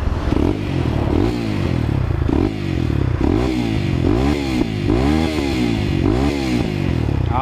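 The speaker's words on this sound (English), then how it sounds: "Ah, that old single thumper," CSC TT250 single-cylinder motorcycle engine revving close by, a loud continuous thumping drone with repeated rising and falling rev sweeps throughout.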